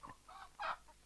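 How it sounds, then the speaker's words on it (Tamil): Chickens clucking softly in a village home setting, a few short quiet clucks with one brief louder call near the middle, faint and heard alone. "என்ன கோழியெல்லாம் வாங்கிட்டு வந்திருக்காரு?"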